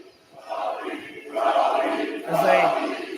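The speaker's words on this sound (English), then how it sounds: "No hush falls upon the crowd as they shower her with the love she needs." A professional wrestling crowd at an AEW arena roars and chants for an arriving wrestler, swelling in waves of loud, distant collective cheering.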